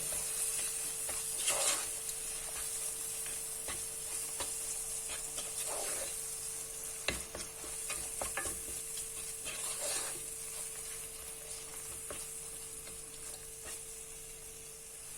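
Blended tomato, spices and curry leaves for vegetable biryani being stirred in a pot over a constant low sizzle, with occasional soft scraping strokes and a faint steady hum in the background.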